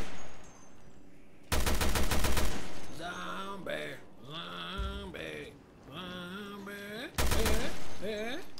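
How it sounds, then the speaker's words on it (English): Gunfire aimed at a zombie in the Resident Evil Revelations 2 video game, two loud close bursts of rapid shots with a tonal, warbling game sound between and after them. "I'm gonna riddle you with bullets."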